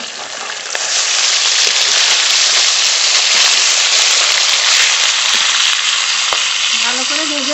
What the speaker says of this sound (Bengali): ভালো করে ভেজে নেব।